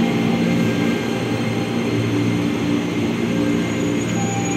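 A JR 205 series commuter train bound for Bogor pulls into a station, giving a steady, loud rumble of wheels and motors that fills the whole span with no pause.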